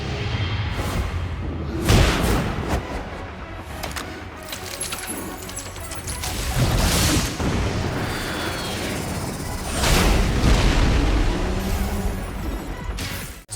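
In a Tekken 8 rage art, a salmon turned missile flies and explodes, giving repeated booms, whooshes and thuds over a busy, loud game mix.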